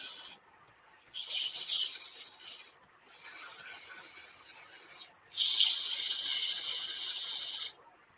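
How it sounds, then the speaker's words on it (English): Ash wood on a turned acorn box being sanded on the lathe, three steady raspy passes of abrasive hiss separated by short pauses, close and fairly loud with no talking. "Probably try to sand it out a little bit"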